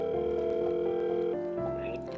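A telephone call is placed and a steady electronic ringback tone sounds for a couple of seconds, shifting pitch partway through, with faint background voices.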